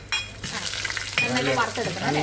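Coconut pieces drop into hot coconut oil with mustard seeds and sizzle loudly up close, with a burst of crackling and spattering that keeps going as the pieces fry, no talking.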